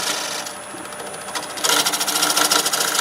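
A wood lathe's steady machine whir with a bright, continuous hiss that grows louder and busier partway through as a tool cuts, running smoothly.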